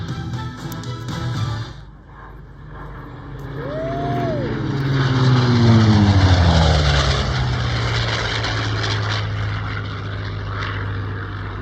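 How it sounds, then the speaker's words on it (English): A Hawker Sea Fury piston-engine fighter passes overhead at an air show, its propeller drone rising from distant to loud and close, then sweeping past with a falling pitch and a long sustained roar. "Hawker Sea Fury."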